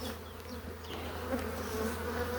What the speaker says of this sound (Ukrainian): Ось оса, дивіться, їй ай ушла, матка оси ушла.